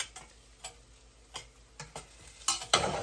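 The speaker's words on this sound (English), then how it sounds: "So I'm going to spoon some of it over here onto my plate." Scrambled eggs are spooned from a pan onto a plate, with scattered light scrapes and taps of a spoon on metal and china, closing with a louder clatter.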